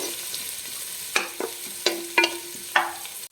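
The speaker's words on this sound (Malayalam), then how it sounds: "നമ്മൾ ഉള്ളി ഒന്ന് വഴണ്ടി വരുന്ന സമയത്ത് നമുക്ക് പച്ചമുളകും കറിവേപ്പിലയും ഇട്ട് കൊടുക്കാം." Onions frying in a pan for a roasted-coconut chicken curry, with green chillies and curry leaves added, give a steady soft sizzle broken by several sharp stirring scrapes and clinks, close by with no talk.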